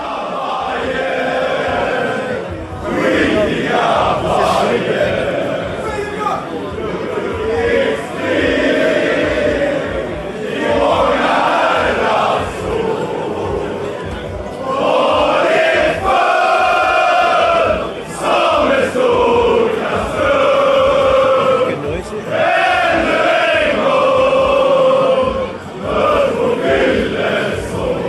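A loud, dense crowd of football fans in a Stockholm pub fills the space with overlapping chatter and chanting voices, rising and falling continuously indoors.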